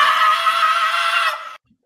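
A shrill, sustained scream from a played video clip, loud and continuous for about a second and a half before cutting off abruptly into silence.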